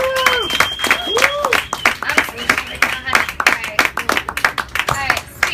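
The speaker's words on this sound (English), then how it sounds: "big round of applause for Ebony as she makes her way back up here" Audience at an open-mic poetry night applauding performer Ebony, a dense burst of hand claps that starts strong and tapers into scattered claps, with a speaking voice over the applause.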